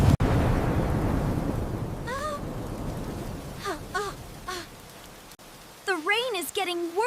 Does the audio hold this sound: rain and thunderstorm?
yes